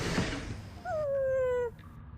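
A pup in a comic dub gives a drawn-out, rising-then-falling whimpering whine, close and clear, after a brief breathy sound; the cry is probably voiced by a person imitating the dog.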